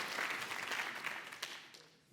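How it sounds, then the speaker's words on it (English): An audience at an awards ceremony applauds the third prize winner, a brief burst of clapping that fades within about two seconds, heard alone. "So let's applaud her."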